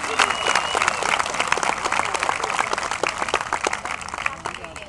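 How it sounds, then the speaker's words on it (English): An audience at a gathering gives a round of applause, with many hands clapping in a dense, steady patter that holds for several seconds and eases off slightly toward the end. "Give them a round of applause"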